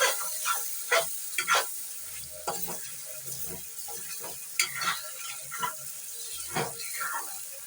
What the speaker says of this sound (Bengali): কষিয়ে নিয়ে দিচ্ছি আলুটাকে দিয়ে কিছুক্ষণ কষিয়ে নেব।